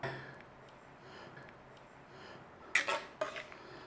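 Chana dal masala is stirred and served from a pan, with quiet scraping followed by two sharp metallic clinks of a spoon against the cookware near the end.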